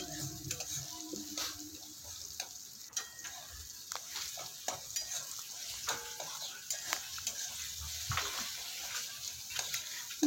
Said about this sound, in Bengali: এই রকমভাবে পেঁয়াজ ভাজার তেলে বা টমেটো ভাজার তেলে ডিমটাকে ভাজলে